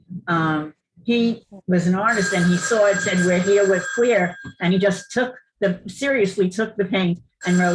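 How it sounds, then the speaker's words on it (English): A telephone rings indoors during a panel discussion, its bell buzzing under a woman's continuous speech. "that's my phone"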